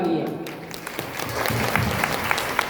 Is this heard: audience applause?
yes